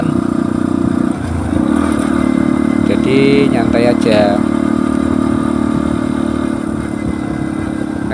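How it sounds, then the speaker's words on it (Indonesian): Motorcycle engine droning steadily while riding along a wide inter-city road, a continuous mid-pitched hum throughout, with someone talking briefly over it. "Kalau motor saya memang nggak bisa kenceng teman-teman"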